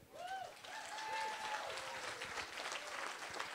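An audience applauds at the opening ceremony of the ULB Relais pour la Vie event in 2018, a fairly faint, steady wash of clapping from a crowd, with a few whistles early on.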